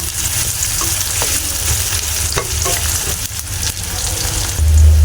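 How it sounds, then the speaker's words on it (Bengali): Onions fry in hot oil in a pan, browning for a pigeon meat curry with bean seeds; a loud, continuous sizzle runs under repeated scraping strokes of a stirring spoon. "পেঁয়াজটা ভালো করে লাল লাল করে ভেজে নেব।"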